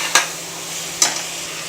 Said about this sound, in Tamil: தக்காளி ஓரளவு வதங்கிக்கிட்டு இருக்கு.